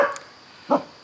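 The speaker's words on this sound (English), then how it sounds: "Like I said, dogs barking." Dogs bark outdoors at a fiber festival in Seattle, two short, loud barks about half a second apart, close by with nothing else heard.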